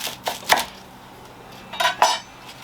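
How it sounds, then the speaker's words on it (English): A kitchen knife slicing a garlic bulb in half on a board for a lamb roast: a few sharp clicks and taps of the blade in two brief clusters, close and moderately loud, with no talk. "I'm going to cut a garlic bulb in half"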